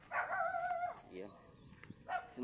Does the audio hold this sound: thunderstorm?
no